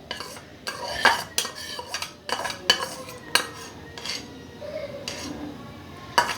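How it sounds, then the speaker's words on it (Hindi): Yogurt spooned onto scored raw chicken for Lahori chargha in a bowl, a series of sharp spoon clinks and scrapes against the dish with soft wet stirring between them. "दही इसमें डाल दी हमने।"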